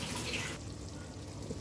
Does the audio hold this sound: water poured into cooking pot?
yes